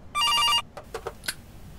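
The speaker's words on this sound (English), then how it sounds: "Oh my god, that phone is loud." A telephone in a horror video game rings loudly in one sharp electronic burst lasting about half a second, followed by a few faint clicks and soft sounds.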